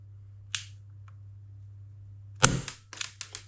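A Tokyo Marui LCP 2 gas airsoft pistol fires 0.2 gram BBs with two sharp, close pops, the second followed by a quick string of softer clicks and rattles.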